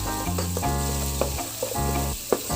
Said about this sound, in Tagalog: Just saute it.